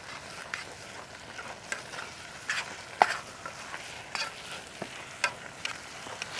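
Meat frying and sizzling in a pan on a camp stove outdoors, with steady crackle under scraping stirring strokes and occasional sharp clicks of the utensil against the pan, no talking.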